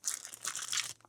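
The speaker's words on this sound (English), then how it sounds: "That noise is my dog chewing a freaking bone." Close, crisp crunching and gnawing in quick bursts, like a dog chewing a hard bone, with a brief pause near the end.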